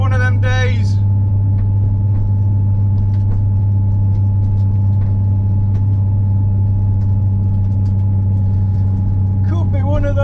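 A Nissan 350Z's engine drones loud and steady from inside the car during a track sprint at Blyton Park, with a constant low rumble throughout and brief talk at the start and end.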